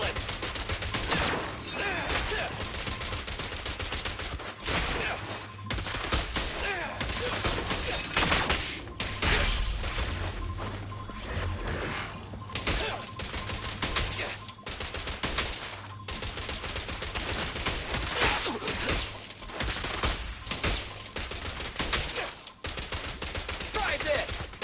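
Rapid gunfire in the anime action game Zenless Zone Zero, dense bursts of shots and impacts hammering almost continuously with brief pauses, loud and up front against game music.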